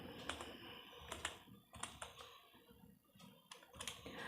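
Typing on a computer keyboard while entering QBasic program code: quick, quiet key clicks in irregular bursts with brief pauses, close by and alone.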